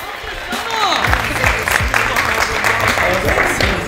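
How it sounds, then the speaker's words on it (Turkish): Audience applause at a lively halay and house music night in Stuttgart, a steady dense wash of clapping lasting several seconds, with voices and crowd noise mixed in beneath it. "Abiye bir alkış gönderin."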